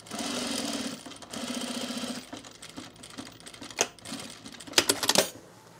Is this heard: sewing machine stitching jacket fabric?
yes